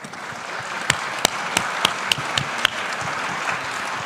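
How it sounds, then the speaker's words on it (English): Conference audience applauding at a UNESCO World OER Congress panel, a steady wash of many hands clapping with a few sharp, louder claps standing out near the front. "I would suggest a round of applause again"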